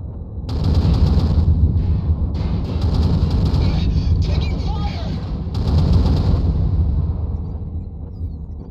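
Heavy weapon fire in the Mechwarrior Online battle on Polar Highlands pounds in dense, continuous bursts. The barrage is loud and close, with short breaks between volleys and a radio-style voice faintly under it.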